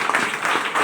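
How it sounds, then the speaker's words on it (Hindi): A church congregation at a Sunday sermon bursts into loud, dense clapping, a short close burst of applause with no talk over it. "आइए प्रभु यीशु के लिए जोर से ताली बजाएं।"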